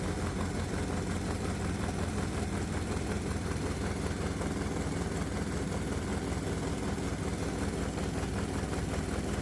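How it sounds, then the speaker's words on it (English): A small engine on a test stand drives an alternator with the field voltage pushed high, holding a loud, close, steady drone that sounds strained and heavily loaded throughout. "I can hear the engine loading down"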